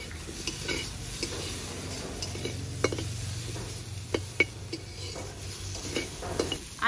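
Potatoes fry in a pan of oil with a constant sizzle, stirred by a spatula that knocks and scrapes against the metal in irregular close taps.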